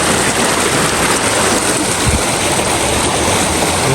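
Water rushes through a diverted irrigation channel in a wadi in Oman, a loud, steady broadband gush heard up close that runs throughout, with a brief low thump near the middle.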